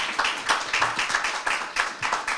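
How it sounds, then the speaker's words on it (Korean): Applause from an audience at a celebration night held in a church setting, a small crowd clapping in uneven bursts and swells, moderate in volume and without any talking over it. "우리 박수 한번 해줍시다."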